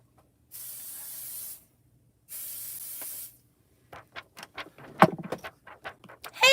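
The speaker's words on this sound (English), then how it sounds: "I am going to spray this with pixie spray" Pixie spray is sprayed onto a stencil in two separate long, close hisses, each lasting about a second, followed by light tapping and rustling handling noises.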